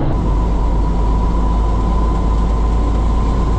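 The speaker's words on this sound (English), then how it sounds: "It's not a bullet train, just an Amtrak train." A heavy, steady low rumble of a passing Amtrak passenger train rolls on continuously, loud and close, with a faint tonal hum above it.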